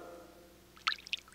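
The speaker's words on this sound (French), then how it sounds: "On dirait que c'est un bruit d'eau" Cartoon water dripping in a castle dungeon: a few faint, sparse drops plink one after another over a quiet hum, close and alone with no talking.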